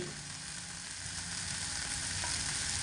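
Ghee goes into a simmering potato and drumstick curry as it is stirred in the pan, giving a steady, close hiss of sizzling with faint stirring underneath and no voices.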